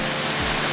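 Broadband rushing roar of a waterfall, one of many along a scenic route, steady and loud with no pauses or voices.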